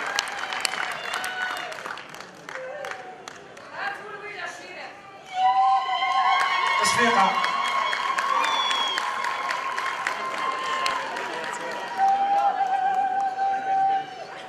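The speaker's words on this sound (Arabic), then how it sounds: "تصفيقة حرة عليهم إن شاء الله" An audience at a Maison de la Culture event applauds steadily for several seconds, the clapping swelling louder midway, with crowd chatter and a voice over the sound.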